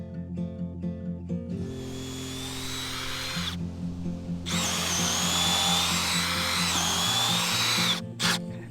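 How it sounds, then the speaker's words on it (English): An electric power drill bores a hole in bursts, its high whine rising and stopping twice over a steady low hum, loud and close with a short final spurt. "That's how you drill a hole."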